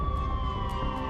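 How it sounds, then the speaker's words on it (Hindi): Police vehicle sirens in Lucknow as a convoy of police cars arrives, a steady wailing tone holding over rumbling traffic noise for a brief moment. "दर्जनों पुलिस की गाड़ियों और उनके सायरन की आवाज ने हर किसी को सन्न कर दिया"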